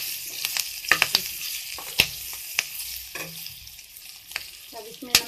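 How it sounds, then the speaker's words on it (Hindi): Chopped green chillies stirred in a sizzling pan for chilli pickle: a low frying hiss broken by sharp, irregular scrapes and clinks of the spoon against the pan, loud and close. "अब आप इसमें ये जो है कटी हुई हरी मिर्च डाल दीजिए, और इनको अच्छे से हिलाइए।"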